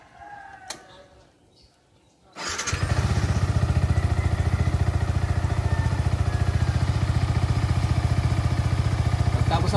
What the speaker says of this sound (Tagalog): start natin yung engine at least 5 minutes para yung langis kumalat sa loob